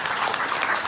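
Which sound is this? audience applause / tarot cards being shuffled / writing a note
audience applause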